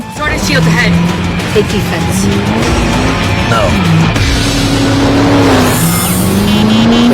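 Film car chase with a revving engine whose pitch rises and falls continuously, loud and close, under constant narration, with a brief high screech near the end.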